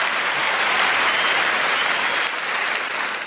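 A comedy show crowd breaks into dense, sustained applause, a full, even wash of many hands clapping together at steady loudness, easing slightly toward the end.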